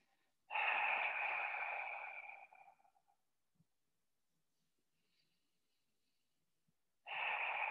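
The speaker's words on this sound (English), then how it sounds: "Let's work through 3 long breaths." A long, slow breath drawn and released during a yoga stretch, one steady airy exhale of about two seconds that tapers off, followed by quiet and the start of a second breath near the end; close and fairly clear, with no talking.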